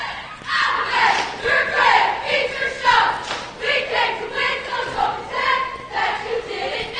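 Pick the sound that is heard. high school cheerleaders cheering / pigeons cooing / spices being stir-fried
high school cheerleaders cheering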